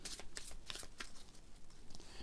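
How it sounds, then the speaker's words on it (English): A shuffled deck of playing cards being cut by hand, with quick papery slaps and clicks of the card packets meeting, close up, in a short burst. "this is a normal way to cut cards"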